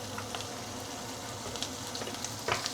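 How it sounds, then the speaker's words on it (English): Preserved pickled ingredients sautéing in hot oil for Teochew steamed fish, a steady close sizzle with light crackles and occasional stirring clicks near the end, no talking. "So let's saute this for about a minute before we continue."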